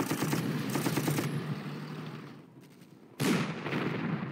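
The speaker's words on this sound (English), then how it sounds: "I can't believe an artillery actually missed." Artillery fire in the strategy video game Panzer Corps, a dense run of rapid, loud booming shots with a brief lull before another sharp burst near the end.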